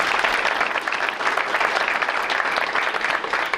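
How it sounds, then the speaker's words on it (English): A school board meeting audience bursts into a full, dense round of applause for Diane, loud and sustained throughout with many hands clapping together and no voices on top. "Let's give her a round of applause."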